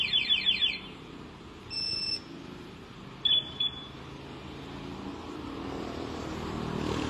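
Short electronic chirps from a two-way alarm on a Yamaha Mio Gravis 125 motorcycle sound in bursts over a steady low background rumble, with a couple of brief beeping blips partway through.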